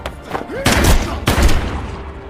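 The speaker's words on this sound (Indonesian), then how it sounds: "Terjadilah tembak-tembakan antara Asep dan si kolonel." A shootout in the film The Commitment: two loud, sharp gunshot bursts close together, each with a booming low-end thump and a short decaying tail.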